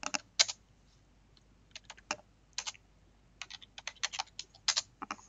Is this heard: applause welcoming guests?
no